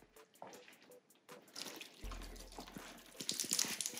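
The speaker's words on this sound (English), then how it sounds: "You can see the water just wants to take off." Water sheets and drips off a car fender treated with Armor Shield IX ceramic coating, starting as scattered close drips and swelling into a steadier, louder splashing run-off toward the end, with no voices.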